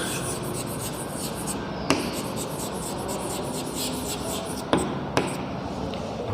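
A pen scratching out a maths sum by hand, a steady close rasp of writing with a few sharper taps as the pen lifts and lands, no talk.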